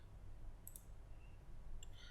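A computer mouse clicks twice during a GNU Prolog installation, the crisp clicks sharp and brief above a faint, quiet room hiss.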